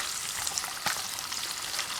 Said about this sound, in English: We're just frying the veggies to soften them a little bit